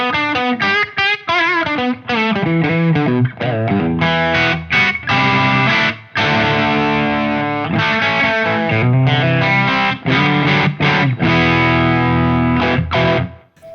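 An electric guitar played through a Wampler Belle overdrive pedal, with a bright, driven tone, strummed chords and choppy rhythmic phrases with short pauses between them, loud and close with no talking.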